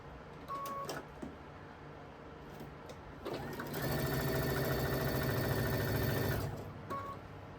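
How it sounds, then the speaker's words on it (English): A sewing machine sews quilt fabric strips end to end in one steady burst of about three seconds, close and clear, framed by quiet handling sounds before and after. "we are going to sew them end to end"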